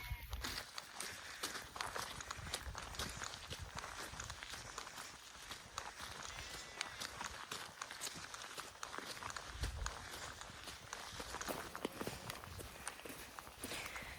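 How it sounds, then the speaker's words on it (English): Splashing footsteps tramp through wet ground and big puddles at a steady pace on an evening walk, with a constant hiss of rain or wind. "definitely walking in big puddles"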